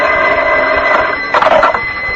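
Telephone bell ringing as a radio drama sound effect for a call to the Blue Moon Hotel, a loud continuous electric ring with a brief burst of extra jangle partway through.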